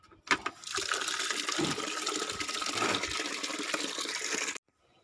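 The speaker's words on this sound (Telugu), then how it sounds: "దాని నిండా నీళ్ళు తిప్పుకో" Water gushing into a container to fill it up for watering pomegranate plants, a loud steady rush lasting about four seconds that stops abruptly, with a short splash at the start.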